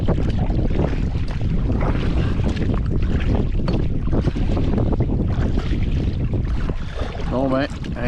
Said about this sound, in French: Le vent de face solide ici